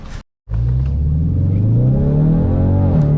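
A 2019 Ford Mustang fitted with a Euro Arts stainless adjustable exhaust revs hard after a brief silence, its deep, loud rumbling roar building and holding steady up close.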